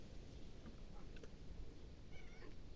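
A very anxious domestic cat meows faintly a few times at close range in a quiet country house, with short cries over a low background rumble.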